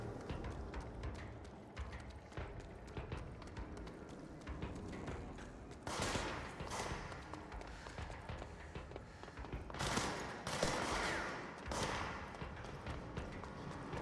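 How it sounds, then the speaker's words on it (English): Enemy gunfire in the video game Control, sounding as loud bursts of shots over a dense, busy game soundscape, with heavier volleys clustered midway and near the end. "Shooting at me."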